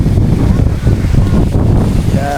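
Strong wind buffets the microphone in a loud, continuous low roar with gusty swells and no pause.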